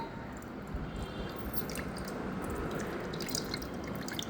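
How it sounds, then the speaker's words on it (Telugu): Soaked tamarind juice is poured into a bowl for Ugadi pachadi, giving a soft, continuous trickle and light splashing with faint dripping sounds, quiet and close, with no speech. "ముందుగా నానబెట్టుకున్న చింతపండు రసాన్ని వేసేద్దాం."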